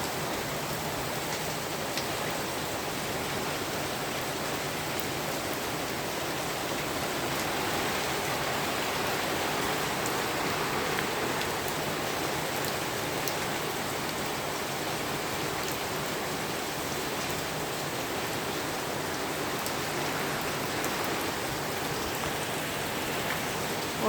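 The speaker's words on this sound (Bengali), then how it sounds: "অসম্ভব বৃষ্টি পড়ছে।" Heavy monsoon rain falling just outside a balcony, a loud, dense, unbroken hiss of drops pattering on surfaces that holds steady throughout without pauses.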